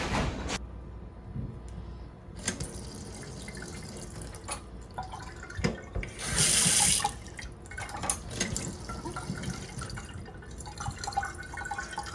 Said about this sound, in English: anytime I want to take a shower, I have to turn on the emergency valve. And then I have to shut it back off otherwise the water just keeps running